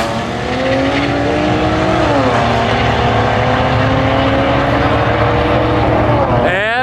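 A Dodge with a bi-turbo inline-six and a muffler runs steadily and loudly, its tone dipping slightly at about two seconds and rising again near the end, with a bit of tire noise.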